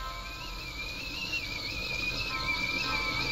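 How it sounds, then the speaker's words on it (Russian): Kettle whistle in the video game Mother, a thin wavering tone that holds steady throughout over a low background bed, with no voices. "Ведь он свистит"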